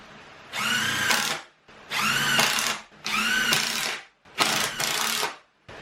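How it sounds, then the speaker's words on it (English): A power drill drives 2-inch screws into wood while shelves are built: four loud, close whirring bursts of about a second each, separated by short pauses. "I've just got some 2-inch screws that I'm using. And I'm going to put 4 of them in here."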